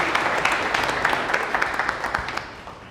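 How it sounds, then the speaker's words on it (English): An audience at a real estate investor meetup breaks into a round of applause, many hands clapping in a dense burst that gradually fades toward the end. "Give him a round of applause."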